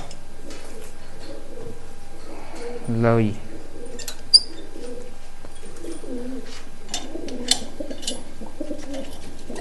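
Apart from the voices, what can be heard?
pigeons cooing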